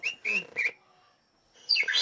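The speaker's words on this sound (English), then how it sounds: "Ali simulates a mating ritual with the help of a birdsong recording." Recorded birdsong played in the Borneo jungle to lure birds to a trap, bright whistled chirps in two short bursts separated by a quiet gap, clear and fairly close.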